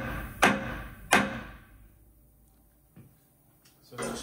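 Two sharp knocks about half a second apart on a 4th axis trunnion being tapped into alignment, ringing briefly, then a fainter tap and a muffled voice afterward.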